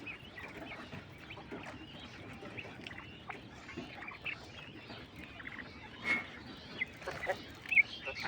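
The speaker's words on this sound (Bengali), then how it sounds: "European white giant কটনিক্স" European White Giant Coturnix quail call softly, with faint scattered chirps and clucks over a low, steady background.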